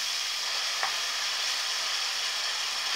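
Chopped, salted onion sautéing in a pan for Egyptian mahshi stuffing, a steady close hiss of frying with a faint brief stir partway through and no voices.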